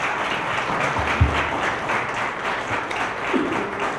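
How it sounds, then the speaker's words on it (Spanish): An audience applauds after a talk on women's political participation in Mexico. The even, sustained clapping fills the room, with a faint thump partway through. "Un fuerte aplauso, por favor."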